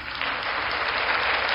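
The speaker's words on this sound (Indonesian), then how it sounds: "Tepuk tangan bagi Tuhan Yesus." A congregation applauds steadily at a church gathering, dense continuous clapping from many hands that holds level and loud throughout with no voices above it.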